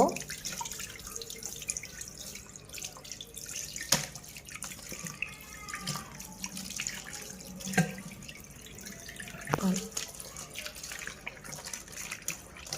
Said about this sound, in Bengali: প্রথমে আমি তালটাকে আগে ধুয়ে নিব।